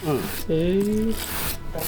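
A stiff brush scrubs the dead wood of an old plum bonsai, a steady rasping rub that runs the whole time beneath a voice talking over it.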